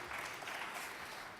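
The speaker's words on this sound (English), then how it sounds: "Give him a round of applause." An audience claps together at a quiz-style game-show event, a steady wash of applause that stays even and fairly loud for the whole short burst.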